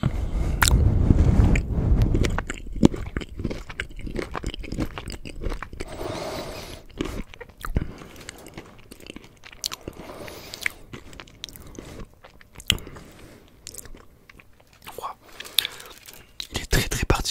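Crunchy biting and chewing of dark chocolate with caramelized peanuts, starting with a loud crunch followed by repeated close chewing and crackling, with whispered talk in between.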